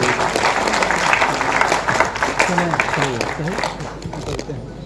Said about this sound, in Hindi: आपकी जोरदार तालियों के बीच यह सम्मान होना चाहिए।